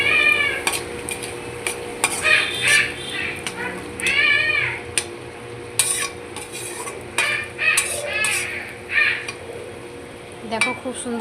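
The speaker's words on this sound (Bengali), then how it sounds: "এখন আমি ভেজে রাখা আলুটা দিয়ে দেব।" Fried potatoes stirred into a spiced fish curry in a pan: irregular scraping and clinking of a spoon against metal, close by, with bird calls in the background.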